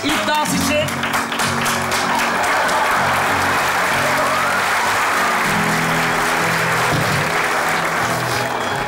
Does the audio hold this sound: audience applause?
yes